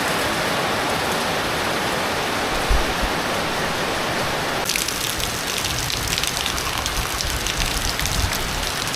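Steady rain pours down as a dense, continuous hiss, its texture shifting partway through as if the drops land on a different surface.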